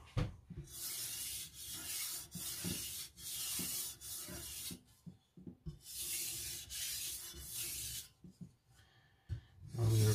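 A knife blade is worked back and forth on a sharpening stone while its burr is weakened, giving repeated close, even rasping strokes in a steady rhythm with brief pauses between passes.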